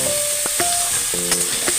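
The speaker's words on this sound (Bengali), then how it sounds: "পেঁয়াজটা একটু ভাজা ভাজা করে" Onions sizzle and fry in a pan for a Bengali-style mutton liver chorchori, giving a steady close crackle with brief scraping stirs and a few faint tonal clinks.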